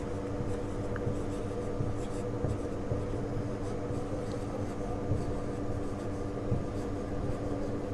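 Pen scratching steadily across paper while equations are written out by hand, a continuous soft rubbing texture that runs the whole time, close and fairly quiet over a low hum of room noise.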